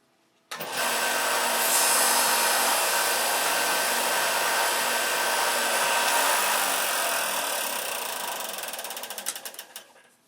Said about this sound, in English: Let's sand this close to square.